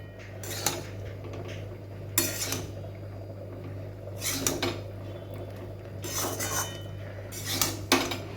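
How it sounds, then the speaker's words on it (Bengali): A spoon scrapes and clinks against a pot while rose water is stirred into cooked pulao, giving several short metallic bursts over a low steady hum, with no talking. "গোলাপ জলটা একটু মিশিয়ে নেব।"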